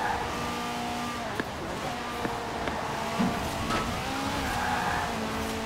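A Ferrari F40 in Forza Horizon 4 drives along with a steady engine drone, faint tire squeal and small shifts in pitch, the car sound moderately loud and continuous with no clear talk over it.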